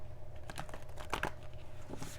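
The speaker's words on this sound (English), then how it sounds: "All right, let's do one more shuffle. We'll cut the cards and we'll get some advice." A tarot deck being shuffled and cut, giving a few soft, papery riffles and crinkly bursts, the loudest cluster in the middle, heard close over a quiet steady background hum.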